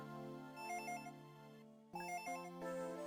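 A telephone rings in a living room in a Dragon Ball video game, a faint chiptune-style ringtone with repeating melodic tones that pauses briefly and then starts again.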